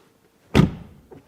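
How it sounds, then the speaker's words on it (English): A frameless door on a Porsche Macan EV Turbo shuts with one solid, close thunk, followed by a short muffled decay and a faint click of the latch a moment later. "First of all, door closing sound."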